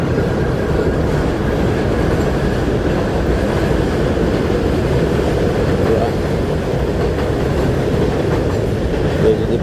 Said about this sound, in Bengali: এই যে ট্রেনটা যাচ্ছে